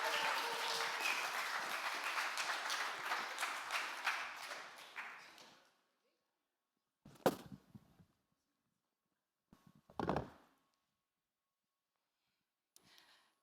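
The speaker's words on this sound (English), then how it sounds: "Give her a round of applause." An audience at the 2023 Spartan Story Slam storytelling competition applauds a storyteller with loud, dense clapping for about five seconds, fading out, followed by near silence with a few faint breaths and soft taps.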